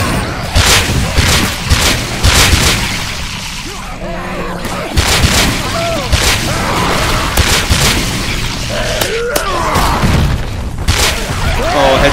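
Weapon fire in the horror shooter game Tubbyland Outbreak: Rotten House, a steady stream of loud, booming shots repeating rapidly over several seconds, with brief gaps between bursts.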